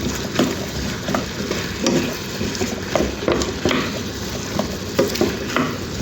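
Potato poriyal with chilli powder and salt frying in a pan, stirred with repeated close scraping strokes in an uneven rhythm over a continuous sizzle, no voices.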